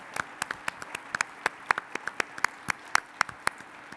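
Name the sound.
audience applause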